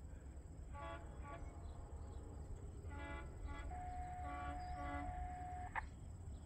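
A train rolls through a grade crossing with a steady low rumble, while a horn sounds in several short blasts and then one long sustained tone, fairly distant.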